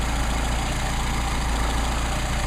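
A Mercedes 190SL engine with Solex carburetors idles steadily, a close, even low rumble with no change in pace across the short stretch.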